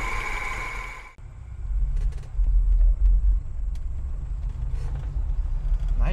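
A 1991 Moskvitch IZH 412 sedan drives on the road with a low, steady engine rumble and road noise heard from inside the cabin, after a short burst of other sound at the start.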